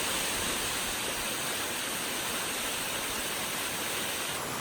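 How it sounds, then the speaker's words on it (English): Jones Falls, a 44-foot waterfall in Shenandoah National Park, pours in a loud, dense, unbroken roar heard from close by. "Standing here next to the Jones Falls, and it's quite a spectacular 44-foot waterfall."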